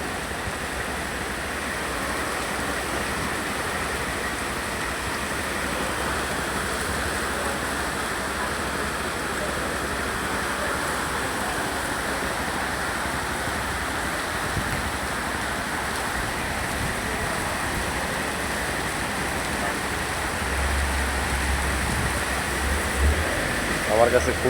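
Sudden hail comes down in a dense, unbroken rushing patter that holds steady for the whole stretch, loud and close, with no clear voices over it.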